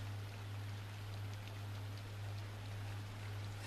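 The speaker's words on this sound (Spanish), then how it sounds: "Está lloviendo" Steady hiss of rain falling in the video game Inside, continuous and even throughout, with a low constant hum underneath and no voices.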